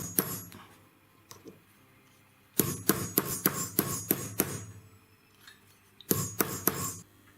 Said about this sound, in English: I use my hammer now to close the gap up.